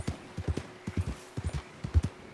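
Horse hooves clip-clop in a steady, rhythmic walking gait in the Red Dead Online video game, a dozen or so close, moderately loud hoof strikes with no talk over them.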